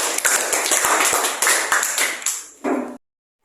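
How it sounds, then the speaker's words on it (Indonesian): A classroom claps for the children in a short burst of sharp, close taps that rise and fade over a few seconds, followed by a brief voice before silence. "Tepuk tangan untuk anak"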